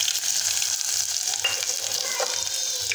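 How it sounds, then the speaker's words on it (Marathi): Cumin seeds sizzle and crackle in hot oil for a tempering while making surajkand (elephant foot yam) bhaji, a steady bright frying hiss with occasional stirring, close and loud. "मस्तपैकी आता आपण तडका देऊन घेऊ"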